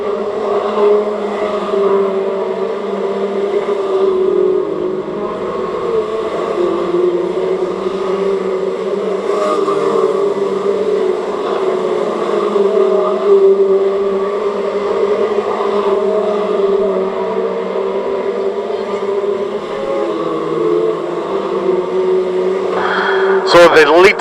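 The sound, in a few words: stock rod race cars racing at Cowdenbeath racewall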